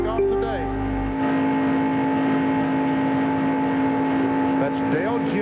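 Stock car engines drone at the 1996 Busch Grand National Goody's 300 at Daytona International Speedway, a steady, loud pack roar with a sustained mechanical whine, under a commentator's voice.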